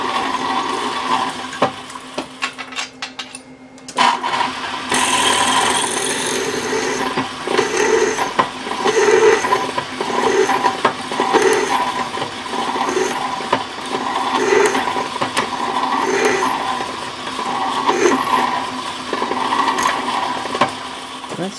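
Old rivets being drilled out of an AK-47 receiver during a home build, a steady grinding whine with a pause near the start, then continuous drilling with rhythmic pulses, close and fairly loud.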